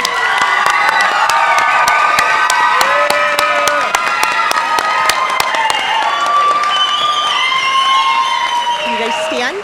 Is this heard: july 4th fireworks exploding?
no